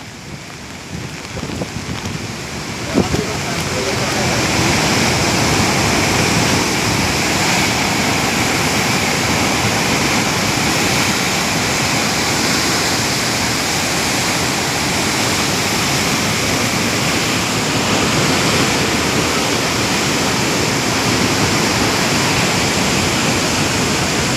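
Heavy water rushing through the Upper Bari Doab canal, a loud, steady broadband roar that builds within the first few seconds and then holds unbroken and close for the rest of the time.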